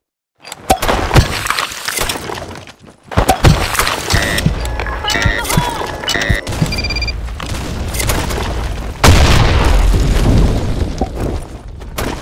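Grenade explosions and gunfire in a first-person shooter match, loud sharp bursts with a big blast near the ninth second, dense with game effects and beeps, while a voice calls out over the action.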